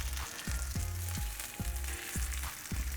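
Kokanee salmon fillets frying in a pan, a steady sizzle beneath a repeating low rhythmic thumping, fairly quiet, with no talk.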